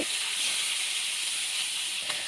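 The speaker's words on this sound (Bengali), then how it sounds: "দেখো ভালোভাবে এটাকে ভেজে নিতে হবে" Fish frying in hot oil gives a steady, close, even hiss and sizzle, bright and unbroken throughout with no voices over it.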